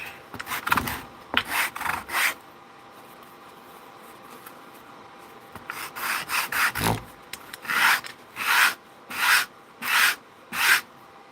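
Knife scales rubbed back and forth by hand on sandpaper glued to a flat sheet of glass, a few scattered scrapes, then a steady run of six long, even, close rasping strokes.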